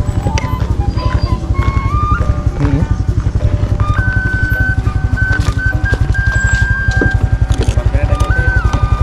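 A motorcycle rides along a village road in Gunung Halu, West Bandung, its engine close and loud with a steady rapid pulse throughout, while other tones shift faintly over it.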